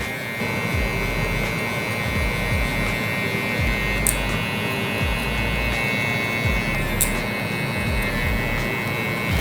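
Hair clippers fitted with a 0.5 guard buzz close and steady while cutting a taper, a loud constant electric hum with faint scraping strokes through the hair and no speech.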